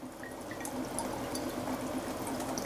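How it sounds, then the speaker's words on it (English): Champagne vinegar is poured over tarragon into a glass bottle, a quiet continuous trickle and gurgle of liquid filling close by. "champagne vinegar over the tarragon. You could also use white wine vinegar"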